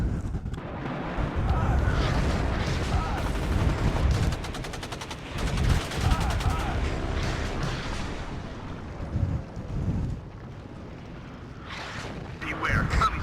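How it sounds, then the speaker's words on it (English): Battle gunfire in the real-time strategy game WARNO, steady rattling bursts and booms layered into a busy combat din, with someone talking over parts of it. "We're getting shot at."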